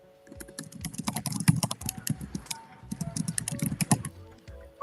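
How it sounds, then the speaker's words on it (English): Rapid keyboard typing clatters in uneven bursts with a short pause midway, close and fairly loud, with no voices. "I hear them typing on."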